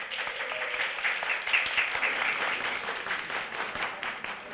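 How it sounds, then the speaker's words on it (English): Audience at a school parent appreciation ceremony applauds, a dense steady wash of many hands clapping throughout, fairly close and sustained with no talk over it. "give him an applause."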